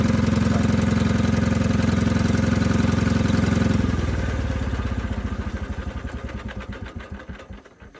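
A Detroit Diesel 2-71 two-stroke engine on an Allis Chalmers HD-5 dozer runs loud and close with a rapid, buzzing beat. It is then shut off, and its firing pulses slow and fade as it winds down to a stop.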